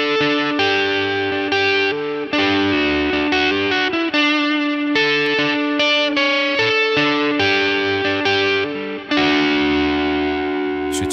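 An electric guitar played through a light overdrive pedal with added reverb rings out in distorted chords and notes, loud and sustained with short breaks.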